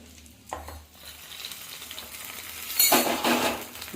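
Hot tempering poured into a dosa chutney made without peanuts: quiet stirring scrapes give way to a sudden loud sizzling burst that fills the last second, with no talk.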